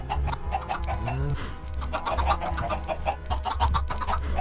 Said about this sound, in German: Sind hier nur 20 Hühner drin.